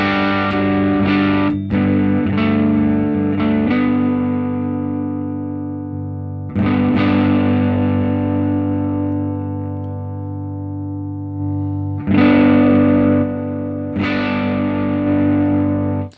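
Electric guitar with a clean tone through a Line 6 Helix amp model, ringing chords that sustain and decay, struck again several times with steady, fairly loud attacks and a little reverb.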